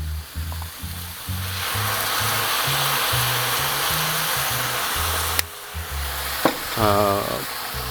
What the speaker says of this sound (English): So I have a ruby port here that I'll put about 3 ounces in.